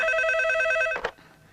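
A telephone rings with a steady electronic tone that stops abruptly, followed by a brief click as the handset is picked up, then near silence.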